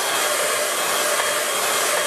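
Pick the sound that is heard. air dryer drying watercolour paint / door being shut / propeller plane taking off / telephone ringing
air dryer drying watercolour paint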